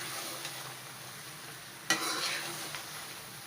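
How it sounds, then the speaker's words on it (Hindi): Potato and brinjal pieces being sautéed with chopped green chillies, a steady soft sizzle under occasional stirring scrapes, with one sharper clack of a spoon against the pan midway; no talking. "सब्ज़ी को मैं भून रही हूँ।"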